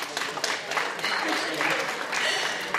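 An audience at a music show claps steadily, a dense and fairly loud wash of many hands with occasional sharper individual claps standing out, sustained throughout and close-sounding.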